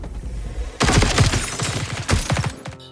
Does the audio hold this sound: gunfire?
yes